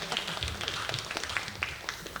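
Scattered hand claps from an audience at an evening artists' charity event at Taman Ismail Marzuki, greeting a musician; faint, uneven and sparse, with a few sharper claps standing out.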